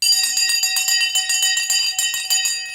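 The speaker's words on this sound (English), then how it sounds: "The bell has now gone." Stock market closing bell ringing, a loud electric bell clanging in a rapid continuous rhythm of metallic strikes that sustains for several seconds, with no talking.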